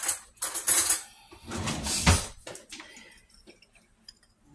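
Utensil clinking and scraping against a pan while enchilada sauce ingredients are mixed together, a few sharp metallic clinks and stirring scrapes in bursts that fade out near the end.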